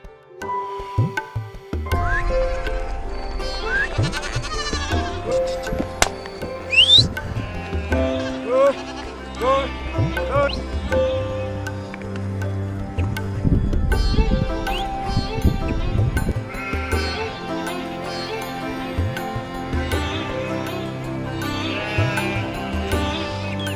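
A herd of goats bleats repeatedly in the Kashmir mountains, many overlapping calls near and far, loud and continuous over background murmur.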